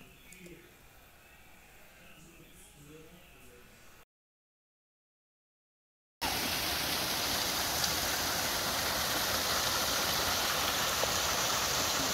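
A waterfall at an outdoor parkour spot roars as a loud, steady rushing wash that begins after a short silent gap, following a quieter opening stretch with soft background murmur.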